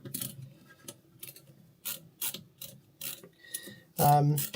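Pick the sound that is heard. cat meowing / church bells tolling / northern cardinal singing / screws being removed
screws being removed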